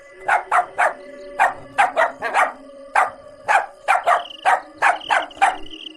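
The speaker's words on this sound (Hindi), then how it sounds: "वो जोर जोर से भौंकने लगता है।" Dog barking loudly at night, a rapid run of about fifteen sharp, close barks in uneven bursts, each clear against a quiet background.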